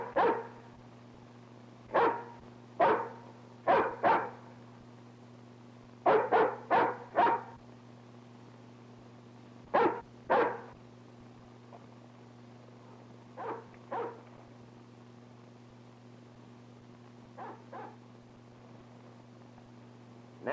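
A hound dog barking outdoors in a valley, loud clustered barks in bursts of two to four, then sparser and fainter barks with pauses between.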